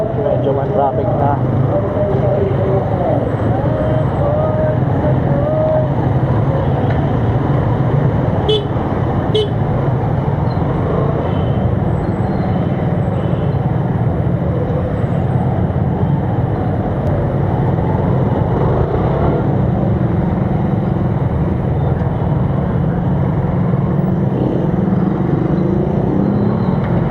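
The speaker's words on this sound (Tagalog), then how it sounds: "Medyo man traffic na." Steady road traffic in Taytay, Rizal, with engines rumbling and a car horn tooting briefly partway through, the dense roar continuous and fairly loud throughout.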